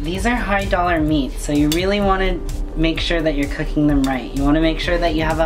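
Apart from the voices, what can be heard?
None of the usual background noises is heard.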